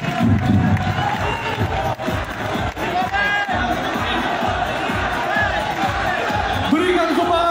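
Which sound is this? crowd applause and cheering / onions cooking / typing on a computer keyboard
crowd applause and cheering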